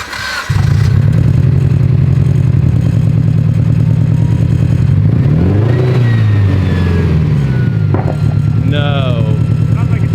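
Mitsubishi Evo with a blown engine revving hard and close, a loud rough roar that climbs and falls in pitch for several seconds, with people talking nearby.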